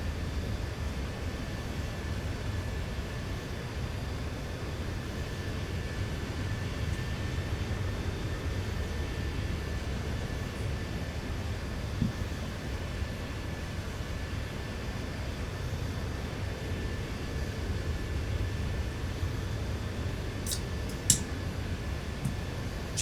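Steady, even jet engine drone of a Southwest airliner cruising in X-Plane 11, heard from an outside view as a continuous low roar with a faint high whine and a couple of brief clicks near the end.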